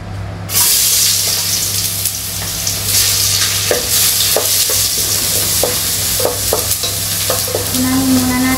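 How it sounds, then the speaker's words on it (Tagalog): Garlic fries loudly in a pan for sinigang na bangus, a fish soup. A dense sizzle starts abruptly and holds while a utensil taps and scrapes at intervals, close and with no talking. "Unahin muna natin ang bawang para mabango ang ating niluluto."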